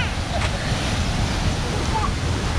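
Water rushing with great force through the Malampuzha dam, a loud, steady broadband roar of churning flow close by with no break across the moment.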